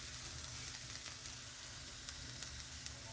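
Teuri greens (saag) frying with potatoes in a pan, a steady close sizzle with faint scattered crackles and occasional light stirring ticks, no voices.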